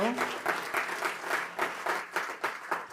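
An audience applauds steadily, a dense wash of clapping that swells in waves for a few seconds.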